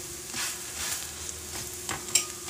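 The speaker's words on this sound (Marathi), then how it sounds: "आलटून पलटून असे छान खरपूस भाजून घ्यायचं तूप लावून" Bhajani thalipeeth roasting crisp in ghee on a hot pan, giving a soft, steady sizzle and crackle with a few brighter spits, fairly quiet and heard without any voices.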